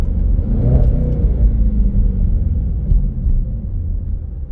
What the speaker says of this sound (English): You can hear the superchargers. There's pops